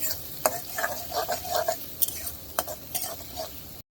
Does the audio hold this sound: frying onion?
yes